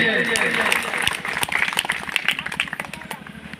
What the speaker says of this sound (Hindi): हमारे साथ में आए सभी सम्मानित साथियों के लिए जोरदार तालियां होनी चाहिए।